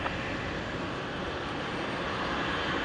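A QantasLink Dash 8 turboprop takes off at Brisbane airport, a steady, broad roar of engines and propellers that holds constant throughout, fairly distant with no talk.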